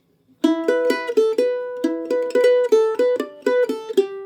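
A mandolin plays a quick, bright Irish reel phrase of crisp picked notes with rapid triplet flourishes, solo and close.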